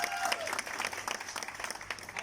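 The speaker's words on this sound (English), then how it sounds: "Round of applause for Jamie." A club audience applauds after a karaoke turn at a comedy show at the Capital Club in Dubai, dense clapping with a few distinct sharp claps and crowd murmur.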